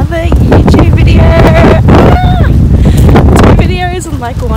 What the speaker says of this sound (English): It is very windy and wet and horrible